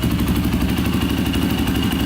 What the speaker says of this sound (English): we let this thing run for 15 minutes idling